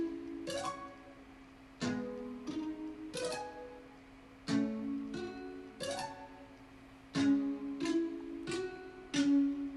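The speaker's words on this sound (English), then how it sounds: "I start off with the main melody" Main melody of a song, built in FL Studio: a bright melodic line of plucked, bell-like notes falling in short repeating phrases, with a steady low tone underneath, played alone and without voices.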